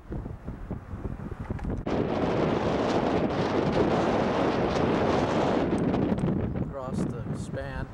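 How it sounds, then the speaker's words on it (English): Strong wind roars across a desert prospecting camp in Arizona, gusting loud and steady over the microphone for several seconds before easing. "The wind's kicking pretty good."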